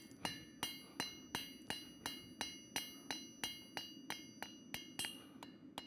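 A blacksmith's hammer rings on hot steel over an anvil at a smithing conference, drawing out a tail. Sharp, ringing strikes land in a steady, even rhythm, about three each second, close and clear with no talking.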